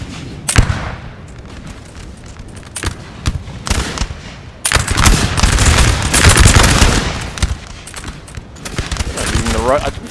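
Musket volleys and booming artillery in Napoleon Total War's Battle of Mockern, 1813: scattered sharp cracks early, then a heavy, continuous rumble of massed fire and explosions, with a voice speaking over the battle.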